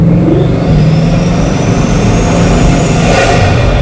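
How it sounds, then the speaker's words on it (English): Bugatti Mistral roadster accelerating, its engine induction roaring loud and close as a steady, rising drone that holds without a break. "it doesn't sound so like louder or as aggressive, but it does in this one because the induction noise that you're getting rather than exhaust noise"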